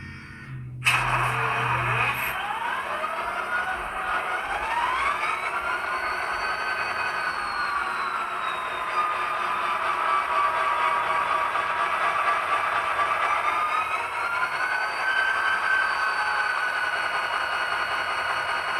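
A model railroad locomotive fires up and settles into a steady warm-up, a sustained electronic engine drone with whining tones that rise and level off, heard close and alone.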